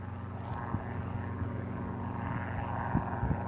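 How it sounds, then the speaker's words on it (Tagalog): A helicopter passes overhead in the evening sky, a steady distant rotor and engine drone that holds even throughout, with no speech over it. "May dumadaang helicopter oh."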